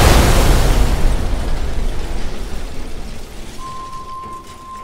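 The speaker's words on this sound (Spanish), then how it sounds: "el ascensor se precipitó desde el tercer piso al sótano" A falling elevator crashes from the third floor into the basement with a heavy, roaring impact burst that rumbles loudly and slowly fades, leaving a faint steady tone at the end.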